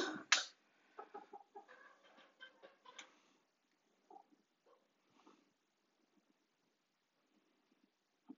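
Pet chickens snack on dried currants, giving a sharp burst at the start and then a scatter of soft clucks and pecking taps that thin out into near silence.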